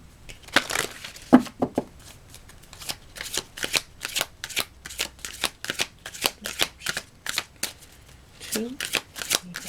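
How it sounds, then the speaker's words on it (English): Shadow and Light Oracle cards are shuffled in a long run of quick riffling bursts, close up, as a voice speaks over part of it. "I'm going to pull a card from the Shadow and Light Oracle."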